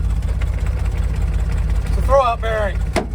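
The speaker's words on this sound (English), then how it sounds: "It's a throwout bearing, and I think the rest is exhaust leaks." A 1969 Chevrolet C30 truck engine idles steadily with a mechanical rattle from a bad throwout bearing and exhaust leaks; near the end a voice briefly speaks over the low rumble.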